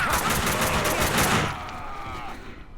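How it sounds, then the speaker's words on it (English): Gunfire from the Xbox game Max Payne 2 rattles out as a dense, loud run of rapid shots for about a second and a half, then cuts off into a fading, echoing tail. "Someone must have heard the gunfire."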